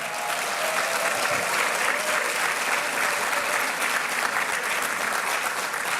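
A crowd at a SUNY Downstate Medical gathering claps in a thick, sustained wash of applause, loud and even across the whole stretch with no voices on top.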